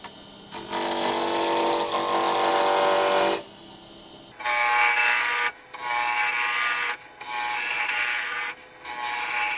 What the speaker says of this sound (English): the roughing gouge to take it down to size